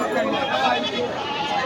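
Goats bleat amid a busy rural goat market in Bangladesh ahead of Qurbani Eid, the animals' calls blending with steady crowd chatter and people talking nearby throughout.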